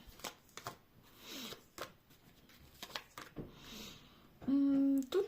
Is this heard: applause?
no